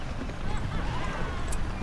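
Horse hooves gallop in the Battle for Middle-earth strategy game during a Rohan campaign mission, a quick drumming clatter mixed with game sounds and a voice talking.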